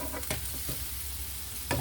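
Seasoned sirloin beef frying in a pan while a utensil breaks it up, giving a dense steady sizzle with a couple of brief scraping knocks, close by and without speech.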